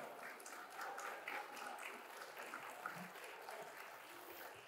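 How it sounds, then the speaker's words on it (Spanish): Applause from an audience at a Spanish-language conference event, a continuous wash of clapping, fairly quiet and distant, steady across the whole stretch. "Otro fuerte aplauso, por favor."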